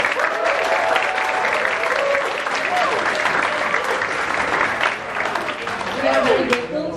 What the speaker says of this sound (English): I would like to invite all the audience to give one more big round of applause to our...